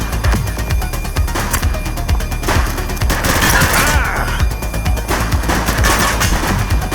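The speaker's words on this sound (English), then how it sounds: "Light them up! Take him down! He's shooting!" Rapid bursts of gunfire crackle through a police shootout in The Precinct, dense and continuous over a rumbling game mix, with a few shouted voices mixed in.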